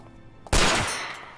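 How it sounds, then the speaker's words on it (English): A single loud gunshot from a handgun in the video game Yakuza 4, a sharp close blast with a decaying tail, alone. "But I'm gonna shoot him."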